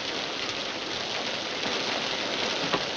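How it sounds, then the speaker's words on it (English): Steady rain drumming on a roof, a dense even hiss that holds constant throughout with no voices. "I said the rain on the roof is lovely to hear."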